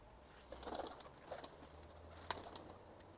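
Red tumbler pigeons of the Muradiye, or Izmir, type give a few soft, faint coos over a low background hum.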